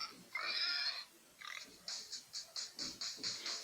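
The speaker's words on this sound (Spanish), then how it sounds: "Dime si tú sabes cómo hace el puerco, vamos a escucharlo tú y yo." A pig squeals and oinks up close: a drawn-out squeal followed by a rhythmic series of short, regular grunting oinks, with no talking.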